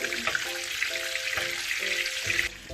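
Salmon basting in a pan of butter with crushed garlic and rosemary, a busy close sizzle and spattering of hot butter with brief scraping and clinking, cutting off sharply near the end.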